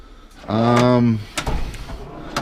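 A toolbox drawer slides open with one sustained, loud grinding scrape lasting under a second, followed by softer knocks and rattles of tools inside.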